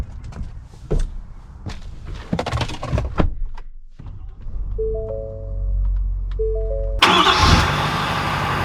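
2020 Ford F-350 Lariat pickup: a few thunks and clicks of doors and controls, then the engine cranks and fires into a steady idle with chimes, before a loud rush as it pulls away.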